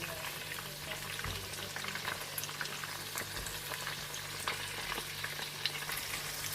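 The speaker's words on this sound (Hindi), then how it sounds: "ये सारी वेजिटेबल भी हल्की सी फ्राई करके तो हम निकाल लेंगे।" Vegetables for tempura fry lightly in oil with a constant bubbling sizzle and scattered pops and clicks, moderately quiet and steady throughout with no talking.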